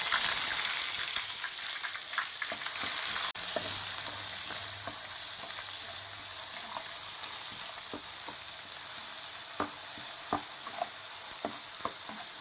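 Ginger garlic paste fries in oil and ghee for a country chicken dum biryani, giving a steady close sizzle with scattered sharp clicks of stirring, and a brief lower rumble partway through.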